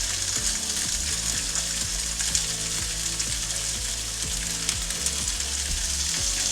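Food pieces for rice bowls fry in a hot pan, giving a continuous sizzle with repeated clicking, crackling pops throughout, close and steady.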